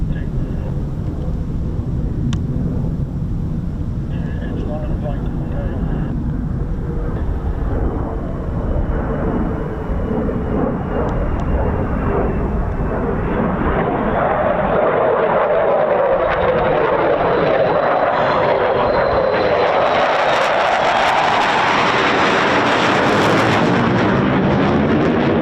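A single F-35 Lightning stealth fighter jet thunders past, starting as a heavy low rumble and swelling into a loud, tearing roar as it passes close overhead, then sweeping away.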